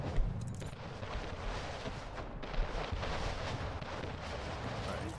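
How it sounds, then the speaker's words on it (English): Warships in the Anno 1800 video game fire cannons heavily, a dense barrage of muffled booms and rumbling blasts overlapping continuously at moderate loudness, with a player's voice faintly underneath. "his ships fire heavily"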